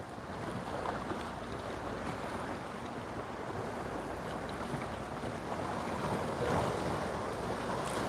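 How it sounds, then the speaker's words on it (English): Ocean waves roll in at Waikiki and break against a seawall below, a steady, dense wash of surf with wind buffeting the microphone and no voices. "You see those waves coming in."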